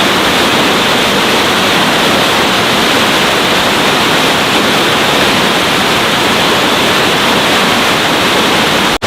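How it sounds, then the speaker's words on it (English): Waterfall at the San Diego Zoo Safari Park, a loud steady broadband rush of falling water that runs unbroken and close, with no voices, until a sudden cut at the very end. "Got another great view of the waterfall"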